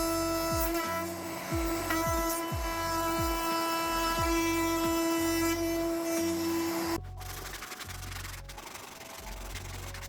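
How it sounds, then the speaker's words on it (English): Router with a bearing guide rounding the edge of a wooden scratching post: a steady high-pitched motor whine with rhythmic rasping passes as the bit cuts, then the tone drops as it spins down while cutting continues, no speech. "Now we can use our router with bearing support to finalize the round shape."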